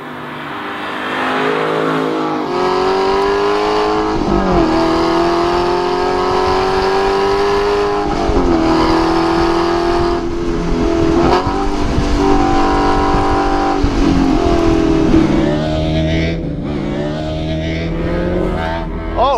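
A 2012 Aston Martin V8 Vantage engine revs loud and close, its throaty note climbing and dropping through several surges across the whole stretch with no talking.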